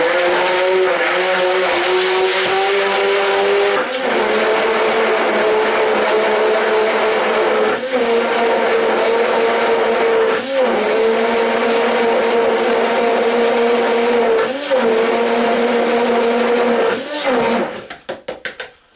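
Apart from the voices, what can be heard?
blender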